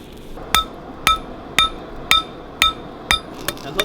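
Hammer blows forging a spoon carving knife blade on an anvil, about eight evenly spaced, ringing metallic strikes close by, with the final few lighter and quicker.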